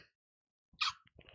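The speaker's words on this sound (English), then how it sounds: "Gotta sneeze." A single sharp human sneeze bursts out after a moment of silence, close and loud, followed by faint breathing sounds.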